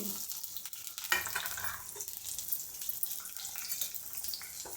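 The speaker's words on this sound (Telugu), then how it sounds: "ఆ నూనె గరం అయిన తర్వాత కట్ చేసుకొని పెట్టుకున్న ఉల్లిగడ్డలు వేయాలి" Chopped onions dropped into hot oil fry with a continuous bright sizzle and crackle, close up, with some stirring scrapes in the pan.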